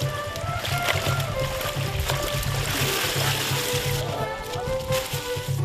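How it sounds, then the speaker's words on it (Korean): Freshly harvested farmed shrimp from a Vietnamese shrimp farm are rinsed in water, giving steady sloshing and trickling splashes throughout, with narration running over it. "체크된 새우는 물에 한 번 헹군 후 비닐이 담긴 바구니에 모은다."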